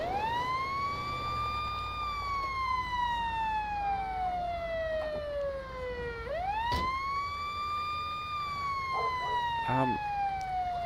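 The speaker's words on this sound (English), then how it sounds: "get in the ambulance and turn the siren off, will ya?" An ambulance siren in a Los Santos video game wails in long, slow rising and falling sweeps, loud and steady, with a voice talking intermittently underneath.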